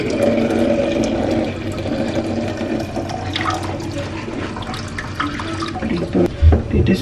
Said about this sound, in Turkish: Bir de sürahimize döküyoruz